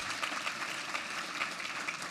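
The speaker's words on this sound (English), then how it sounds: "Give yourselves a big round of applause," An audience applauds steadily in a hall, a dense, even wash of clapping heard at moderate distance with no talk over it.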